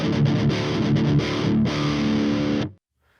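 A passive guitar, recorded through a DI and reamped with a long cable and a low-output reamp box, plays a loud, dull, muffled distorted chord passage with a rhythmic chugging pulse that stops abruptly near the end.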